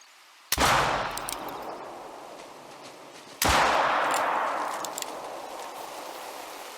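Two loud pistol shots in the hunting video game theHunter, spaced about three seconds apart, each with a sharp crack followed by a long rolling echo that fades slowly.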